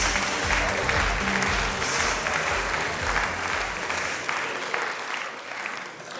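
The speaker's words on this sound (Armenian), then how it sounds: "եկեք դիմավորենք ծափարություններով" Studio audience applause welcoming a guest onto a TV show, loud continuous clapping from a full room, close and sustained before tapering slightly toward the end.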